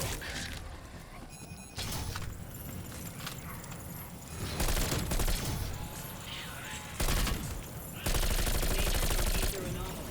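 Rapid gunfire cuts down zombies in Black Ops Cold War zombies mode, with loud bursts of shots that keep stopping and starting over a busy backdrop of game noise.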